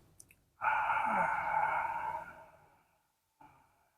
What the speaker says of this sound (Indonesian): Belum yakin, tarik lagi napas sampai 3 kali.